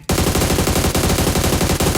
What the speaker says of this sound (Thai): ระวังด้านหลังด้วยนะครับ มีเสียงปืนอยู่